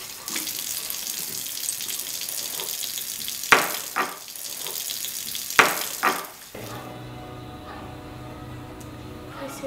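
Running tap water hisses steadily in a kitchen sink while dishes being washed clink and clatter a few times nearby; the flow cuts off, leaving a quieter background hum.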